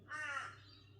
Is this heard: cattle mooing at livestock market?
no